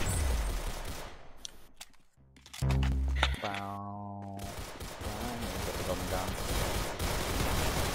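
Pistol gunfire in the Arsenal video game, a rapid series of sharp shots with a loud burst of repeated fire in the middle, over busy game sounds and a voice talking.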